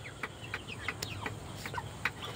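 Chickens clucking steadily on a poultry farm, with repeated short close clucks over a constant background of farm noise and no talk.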